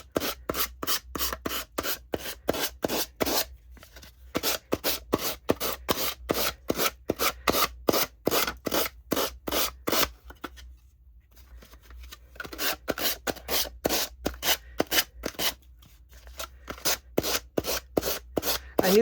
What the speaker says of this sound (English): And then I can just sand it off with my finger sander.